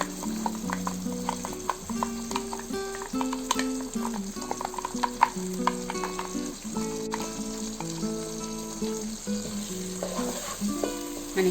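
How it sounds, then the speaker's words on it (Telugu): Onion paste for chicken curry sizzles in a pan, a constant crackling fry punctuated by repeated scraping and clinking stirs, close and clear without any talking. "మనకి ఆనియన్ కొద్దిగా ఫ్రై అవ్వాలి"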